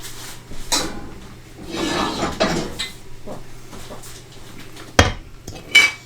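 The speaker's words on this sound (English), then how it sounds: "this pan is a little heavier than I'm used to. It's a lot of cast iron right there." A heavy cast iron pan clanks and scrapes against metal utensils and the stovetop in a kitchen, with a few sharp knocks and softer handling sounds in between, fairly close and without talk.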